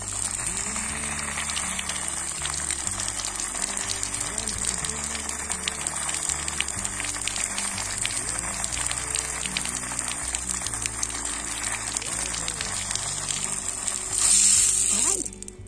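Water poured into a hot pan hisses and sizzles in a steady close crackle for about fifteen seconds, with a louder gushing surge near the end.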